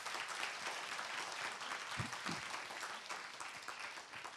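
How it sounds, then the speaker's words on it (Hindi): Continuous applause from an audience at a talk on screenwriting, a thick, even patter of many hands clapping throughout, with a couple of brief low thumps near the middle. "अपने लिए बेहतरीन ताली बजाइए।"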